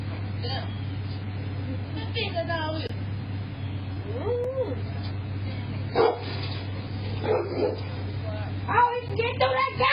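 A dog barks and whimpers in short, scattered bursts over a steady low hum, with people talking nearby.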